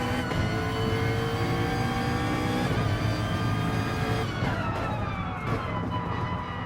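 A McLaren GT3-class race car screams flat out along a long straight at Bathurst in a racing video game, a loud sustained high-revving engine whine with shifting tones, continuous and close.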